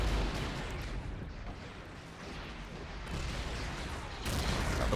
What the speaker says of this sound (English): Oh, and main explosion back there.